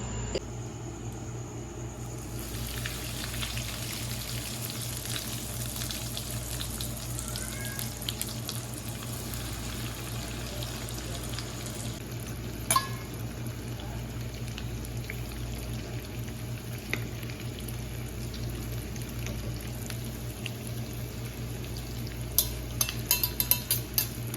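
Chicken rolls fry in hot oil, a continuous fine crackle and bubbling sizzle that holds steady and close throughout, with a few sharper pops and clicks near the end and no talk.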